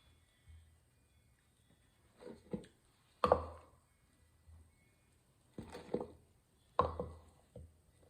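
All-purpose flour being mixed into yeast in a bowl: a few soft, irregular thuds and squishy scrapes in separate bursts, quiet and close, with silence between them.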